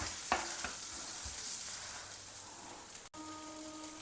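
Sliced onions sautéing in a pan for a white kurma: a soft, steady sizzle with a few stirring scrapes early on and one sharp knock near the end, no talking.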